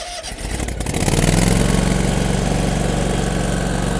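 A Toro GrandStand stand-on mower engine starts and settles into a loud, steady idle with a throbbing low hum, close by and without talk.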